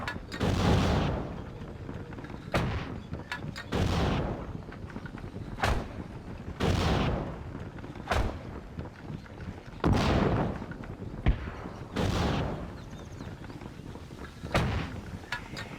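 Artillery guns fire in the Steel Division: Normandy 44 video game, heavy booming blasts roughly every two seconds, each with a rumbling decay, loud and close, with sharper cracks between them.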